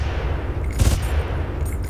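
Gunfire from the video game Far Cry sounds as a short muffled burst midway through, fairly loud over a constant low rumble of game ambience.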